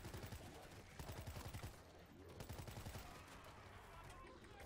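Machine gun fire from a World War Z video game, sounding as rapid bursts of automatic shots at close range with pauses between them, set over a steady game background.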